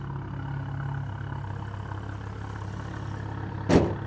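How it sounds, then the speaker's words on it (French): Renault Megane RS track car engine idling high, a steady, fairly quiet low hum and drone that holds evenly, broken near the end by a brief sharp clunk or knock. "Le ralenti, il est haut."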